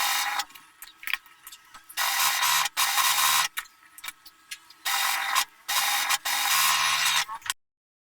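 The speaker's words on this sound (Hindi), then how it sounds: "और अब मैं इसके साइड पर सिलाई कर दूंगी, इसके कॉर्नर्स पर।" Stitching along the sides and corners of a dress neck design comes through as loud, sustained mechanical runs broken by short pauses, ending abruptly.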